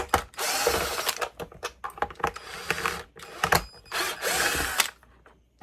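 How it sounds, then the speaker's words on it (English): A power drill backs screws out of a canister vacuum nozzle head in repeated whirring bursts with short ratcheting pauses, close and fairly loud. "let's get the screws out so we can get to this head"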